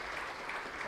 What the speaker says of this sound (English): A round of applause, ladies and gentlemen,